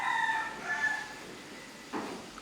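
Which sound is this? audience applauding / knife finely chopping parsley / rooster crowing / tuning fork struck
rooster crowing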